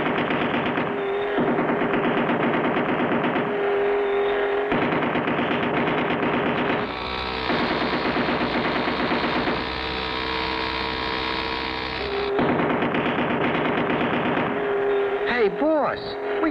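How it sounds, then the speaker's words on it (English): Gunfire in a 1959 Clutch Cargo cartoon shootout at Dead End Gulch: rapid, loud machine-gun rattling runs in long sustained bursts alongside a roaring vehicle engine, with voices mixed in. "We just fired our last round of ammunition, and they're still coming."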